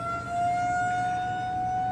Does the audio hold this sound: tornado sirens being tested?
yes